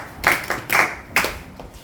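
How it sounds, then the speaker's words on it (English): A few loud, distinct claps in a church Bible-reading contest setting, three or four separate bursts about half a second apart, close by, with no one talking. "Give her a round of applause."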